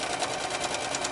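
Sewing machine running steadily as it stitches the fabric of an Elizabethan doublet mock-up, a continuous, even mechanical whir heard close up with no talking.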